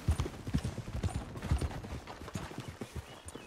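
A horse's hooves clip-clop steadily in the video game Red Dead Redemption II, an even rhythm of close, moderately loud thuds with no talk over them.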